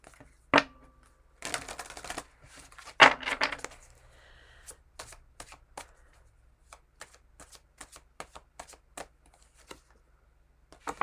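Tarot cards being shuffled by hand: dense riffling bursts near 1.5 and 3 seconds, then a run of separate crisp card snaps and taps spaced through the rest, close up with no talking.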